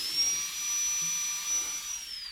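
NSK Presto 2 high-speed dental drill, around 400,000 RPM, running on air from a regulator and dryer in a workshop: a thin, steady high-pitched whine that wavers slightly and tails off at the end.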